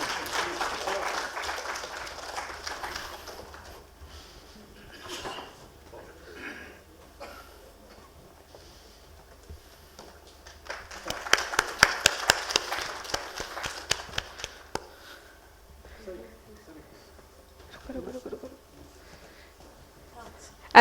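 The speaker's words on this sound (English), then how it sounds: "Ladies and gentlemen, please give a big round of applause." Conference audience at a national conclave on raw material security for metals and minerals: two bursts of hall applause, the first fading after about three seconds and a louder one peaking midway, with quieter scattered clapping and murmurs between.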